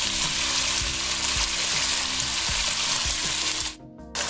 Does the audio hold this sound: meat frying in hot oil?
yes